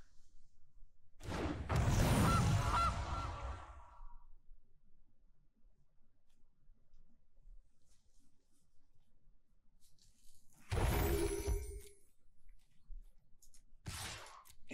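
Gilded Goose is played in the Magic: The Gathering video game, Historic format, with a rushing, shimmering burst of sound lasting a few seconds. After a quiet stretch come shorter sweeping bursts, and no one speaks.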